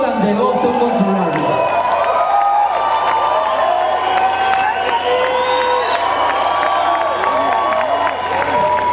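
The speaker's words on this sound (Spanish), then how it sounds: "Queremos que le den un aplauso a Dil Solan de Auto Control." A big festival crowd at Vive Latino cheers and applauds in a steady, dense roar that fills the whole stretch, with whoops and shouts rising out of the mass of clapping.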